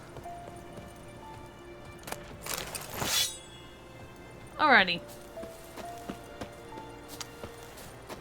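Horse hooves clip-clop in The Witcher 3 video game, sparse scattered thuds and knocks under a few bursts of sound effects, with someone speaking briefly.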